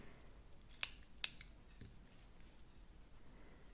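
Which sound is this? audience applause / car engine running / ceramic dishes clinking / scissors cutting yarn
scissors cutting yarn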